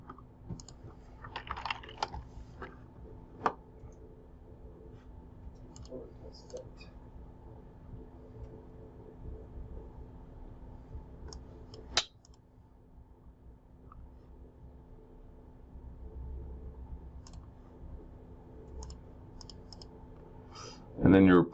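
Computer mouse clicks sending a report, a few sharp isolated clicks spaced through a quiet room with a faint steady hum, and a loud burst at the end.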